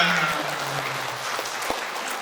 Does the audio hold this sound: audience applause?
yes